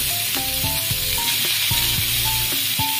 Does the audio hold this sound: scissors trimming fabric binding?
no